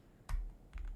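A couple of soft, separated keystrokes on a computer keyboard while typing HTML table code, faint and close against a low background rumble.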